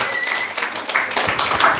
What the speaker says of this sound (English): So let's give Mataji another round of applause.